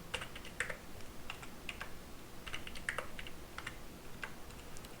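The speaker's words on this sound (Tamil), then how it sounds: "ஸோ வேகமாக இதை டைப் பண்ணிக்கலாம்." Quick typing on a computer keyboard while entering data into a Microsoft Access form, with light, irregular key clicks in short bursts, faint and close, no speech.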